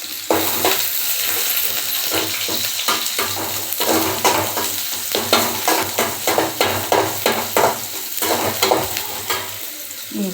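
Crushed garlic stirs and fries in a pan for a tomato thokku, a steady loud sizzle under a run of rhythmic scraping strokes from a spoon against the pan, with no talking.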